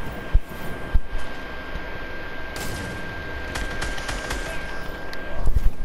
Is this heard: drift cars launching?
no